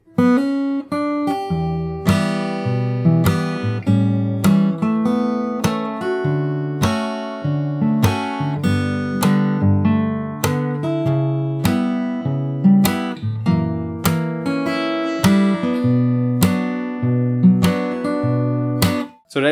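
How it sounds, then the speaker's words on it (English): Solo fingerstyle guitar picks through the second verse of a jazz standard, with ringing chords and melody notes at an even pace, recorded close with no talking over it. "you have the second verse, which is exactly the same, but only the ending is different."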